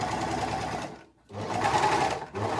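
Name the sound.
overlocker sewing across fabric edge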